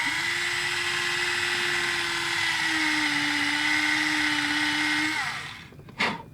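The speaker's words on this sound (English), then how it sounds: "it's such a slow speed drill that is perfect for drilling holes in a die-cast plastic base." A slow-speed Tamiya hobby drill with a 1 mm bit bores into a die-cast plastic base of a 1/64 Alfa Romeo GT model, a steady close whine that shifts pitch slightly midway, then spins down and stops, followed by a brief click.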